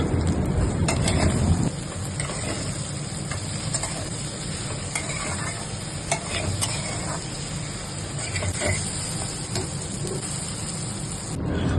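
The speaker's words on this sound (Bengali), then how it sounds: "5 থেকে 7-8 মিনিট লতিগুলি ভাজলাম।" Taro stolons (kochur loti) frying in a pan, a steady low sizzle with stirring scrapes and occasional clinks of the utensil against the pan, heavier stirring noise at the very start.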